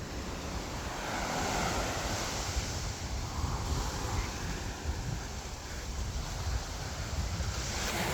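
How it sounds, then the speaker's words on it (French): Surf rolling onto the small Grandes Seychelles beach at Mliha, Mayotte, a steady broadband wash of breaking waves with wind buffeting the microphone throughout, no voices. "C'est une petite plage merveilleuse. Voilà. La plage des Grandes Seychelles."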